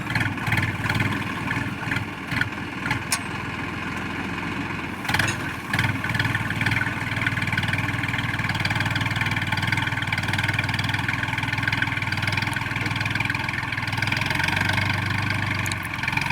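A tractor engine drones steadily while ploughing a field, mid-pitched and continuous, with a few brief clanks early on and no voices.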